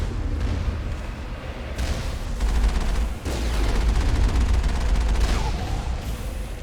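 Turrets firing in the video game Mass Effect: continuous loud rapid fire and booming blasts with dense crackling bursts, filling the whole stretch without letup.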